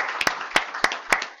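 At a Constitution Party presidential debate, a small audience gives sparse applause: a handful of distinct, sharp claps, loud and close, at an unsteady rhythm over a second and a half.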